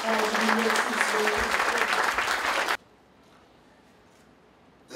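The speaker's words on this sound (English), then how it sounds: "Can we give him a big round of applause as he makes his way?" An audience at a formal event breaks into loud, dense applause with some cheering mixed in. After nearly three seconds it cuts off abruptly into near silence.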